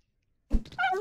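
In the video game Anvil Empires, a dog lets out a single short bark or yelp after a moment of silence, close and moderately loud with a brief whining tail.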